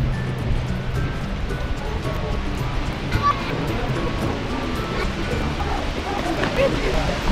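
Water rushes at Fukuroda waterfall, partly frozen, as a steady broad hiss heard from some distance, with faint uneven swells in the wash.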